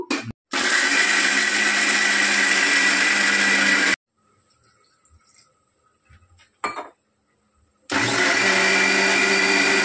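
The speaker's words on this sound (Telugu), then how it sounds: "మిక్సీ పట్టేస్తాను." A kitchen mixer grinder blends peanut chutney with garlic and cumin, roaring loudly in two bursts of several seconds each, separated by a quiet pause with a brief clatter from the jar.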